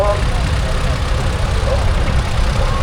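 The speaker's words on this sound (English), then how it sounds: "we've got this Euclid box scraper" A loud heavy engine of a Euclid box motor scraper rumbles steadily up close at a transport festival arena, idling with a constant low drone and faint speech mixed underneath.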